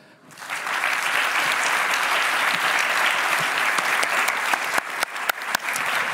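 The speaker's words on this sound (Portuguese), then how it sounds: "Uma salva de palmas para elas." A live podcast festival audience breaks into applause, rising quickly into steady, dense clapping that holds, then thins toward the end into a few louder individual claps.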